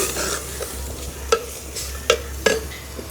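A coconut, cumin, garlic and green chilli paste goes into a bilimbi curry on a wood-fired stove, giving a low simmering sizzle broken by a few sharp clinks of a stirring spoon against the pot.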